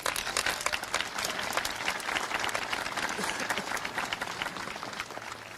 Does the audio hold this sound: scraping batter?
no